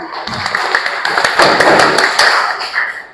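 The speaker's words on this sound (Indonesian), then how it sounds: "Tepuk tangan." Students clapping together in a classroom, a short burst of close, busy applause that swells and then thins out after about three seconds.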